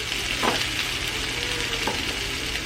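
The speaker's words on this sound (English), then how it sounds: "I'm just gonna let these kind of fry for just a little bit." Food fries steadily in a pan with a continuous close hiss and crackle, punctuated by a couple of brief stirring scrapes, with no talking.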